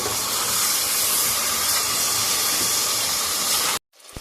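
Mutton roasting (bhunai) in a handi for a Mughlai white karahi gives a loud, steady, close hiss and sizzle with no voices, then cuts off abruptly to near silence.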